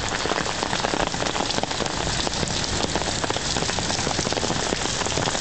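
Heavy rain hammers down steadily during a storm in Calgary, a dense, unbroken roar of drops striking surfaces close by, loud and constant throughout with no voices.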